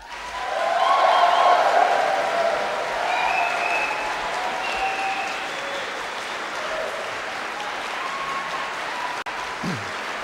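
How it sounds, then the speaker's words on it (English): Graduates at an arts university college graduation ceremony in 2011 applaud their families and friends, a full hall of clapping that swells early, then settles into a steady, slightly echoing roar. "So graduates, now it's your opportunity to applaud your families and your friends."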